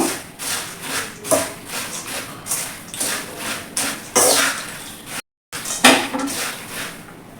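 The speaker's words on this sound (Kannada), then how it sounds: "ಇದು ಮಿಕ್ಸ್ ಮಾಡ್ತಾ ಇದ್ದೀನಿ ನಾನು" Spiced puffed rice being tossed and stirred in a bowl with a spoon: repeated close scraping clinks and rustling sweeps in an uneven rhythm, loud and near, with a brief gap near the end.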